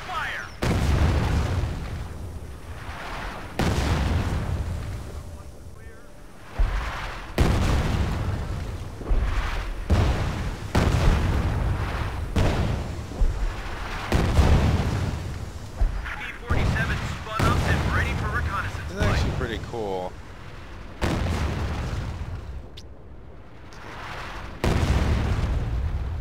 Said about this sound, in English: There's the artillery.